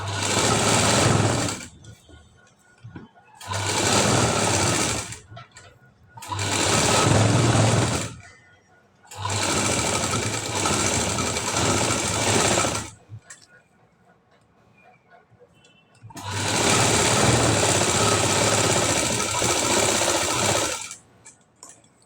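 An electric sewing machine stitches around the high neck of a blouse in five loud, close bursts of rapid whirring, separated by brief pauses where someone speaks quietly.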